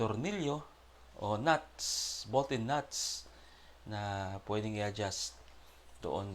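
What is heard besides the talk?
No everyday noise stands out behind the speech.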